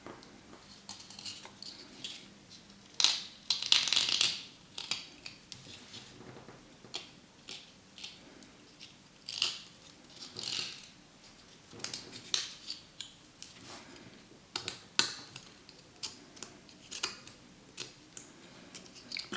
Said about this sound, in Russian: Берем вот такой ножичек, обрезаем края.